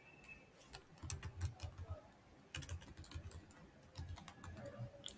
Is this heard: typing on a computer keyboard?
yes